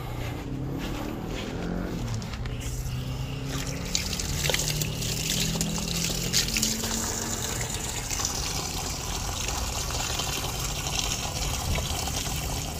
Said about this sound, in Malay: sebelum start engine saya basuh tangan dulu